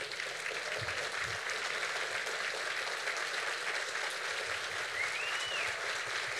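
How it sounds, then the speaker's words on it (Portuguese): An audience claps steadily for a school team at a formal anniversary ceremony, a dense, even wash of applause that holds at moderate, somewhat distant level for the whole stretch. "gostaria de pedir um aplauso muito especial para toda a"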